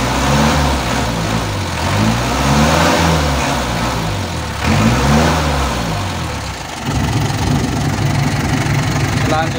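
A car engine is being revved during a throttle test while checking battery charging. It rises and falls in two clear revving swells over a steady idle, loud and close, with no voices.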